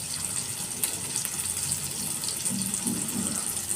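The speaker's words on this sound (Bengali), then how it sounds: "তো এখানে আমি পনিরগুলোকে ভেজে নিচ্ছি।" Paneer frying in a frying pan, a steady hissing sizzle that holds constant throughout at moderate level, with no voices.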